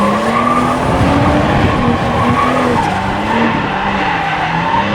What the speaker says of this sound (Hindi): स्लिप कर रही है गाड़ी, not how I would normally do it. गाड़ी वॉबल कर रही है।